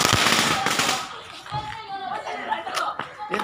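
Children set off firecrackers outdoors, a loud crackling burst of rapid pops at first, followed by scattered fainter bangs beneath people talking and laughing.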